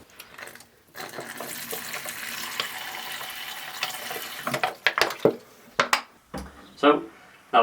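Water runs from a tap into a simple plastic deli cup serving as a water dish for a Poecilotheria regalis tarantula enclosure, a close splashing fill broken by short knocks and clatters of handling.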